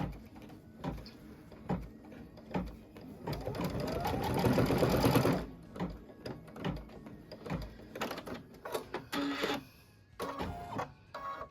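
A computerized embroidery sewing machine stitches a tire placement line in black thread on a Kimberbell Main Street Fire House quilt block. It runs in quick mechanical bursts with a longer steady stretch of stitching in the middle, close and fairly quiet.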